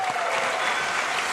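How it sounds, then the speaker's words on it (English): A convention crowd at PAX East applauding steadily, dense clapping filling the whole moment with no voices on top. "round of applause for real to the PAX techs making it happen"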